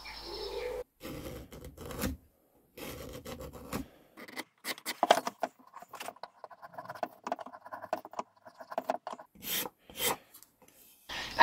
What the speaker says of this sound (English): I did most of this with the gooseneck scraper, thinking that this contour would get into the concave area better